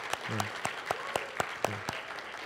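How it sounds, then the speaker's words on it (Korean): A small church youth group welcomes a new worship leader with sparse applause, a handful of distinct claps spaced out, faint and roomy, with a soft voice murmuring underneath. "우리 동규 형제 한번 박수로 좀 환영하면 좋겠습니다."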